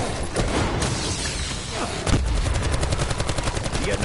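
Shotgun blasts in Call of Duty: Black Ops 4 Zombies, Blood of the Dead map, with several booming shots over dense, continuous game sounds of combat and background noise.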